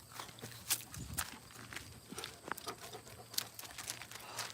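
Hooves of horses clip-clop on the ground in an uneven walking rhythm in hot Minnesota weather, with soft rustling and a low hum in the background.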